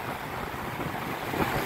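Sea waves breaking on a beach with wind, a steady broadband wash of surf that swells slightly toward the end, close and continuous with no voices.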